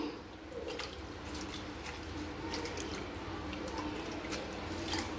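Tamarind being squeezed and dissolved in water by hand for a country kezhuthi fish curry, a steady soft sloshing and dripping close by with no talk.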